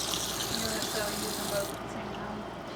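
Water runs steadily from a sink tap, a close, continuous splashing hiss that cuts off near the end, with a person talking over it.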